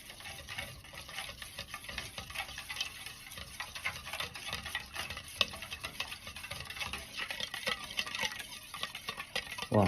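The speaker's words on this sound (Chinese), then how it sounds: "再次用勺子搅拌均匀" A spoon stirs chili oil sauce with minced garlic in a bowl for smashed cucumbers, making a rapid, steady clinking and scraping that goes on unbroken and close at moderate volume.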